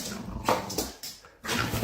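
A dog makes a few short, quiet vocal sounds, whiny barks or yips, in a brief burst with small gaps between them.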